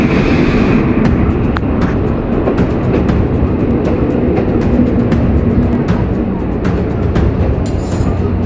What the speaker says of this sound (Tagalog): Ito po ang aking di madilimutang pagsakay sa train